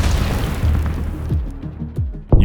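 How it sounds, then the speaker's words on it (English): Land mine exploding under a tank: a dense, rumbling blast fills the opening, then decays into scattered pops and crackles, with a sharp new burst at the end, loud and close. "a nearby tank continued forward and triggered another mine, causing a chain explosion"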